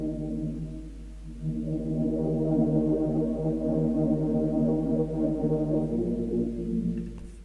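A pitched-down bass layer drenched in reverb, panned and overlaid with crackly vinyl texture, a low droning sustain swelling and wavering for several seconds, alone with no voices.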